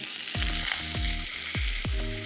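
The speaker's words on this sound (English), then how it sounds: "When your oil's nice and hot, add the steak to the pan." Steak sears in hot oil in a pan, a steady close sizzle layered with four evenly spaced low tonal thumps sliding downward, with no speech.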